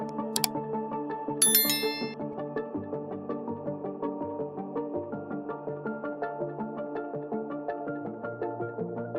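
A notification bell sound effect, bright bicycle-style dings near the start over a repeating chiming melodic jingle that continues steadily to the end, no speech.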